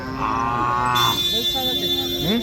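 A bull moos with a long, low, drawn-out call, close by, at a cattle market over a noisy crowd with people talking and a high steady electronic tone in the background.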